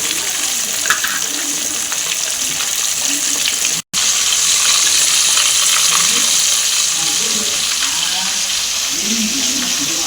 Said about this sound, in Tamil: நல்லா வந்துட்டு இருக்குதா மீன் இப்போ தான் ஒரு சைடு வேகுது